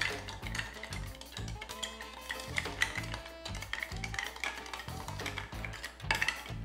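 Whiskey highball mixed with ice in a glass: continuous close clinking and rattling of cubes against the glass in a quick, uneven rhythm, fairly loud and without speech.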